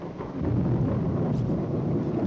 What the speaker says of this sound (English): As the thunder and rain grow in intensity